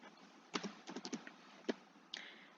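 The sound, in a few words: typing on a computer keyboard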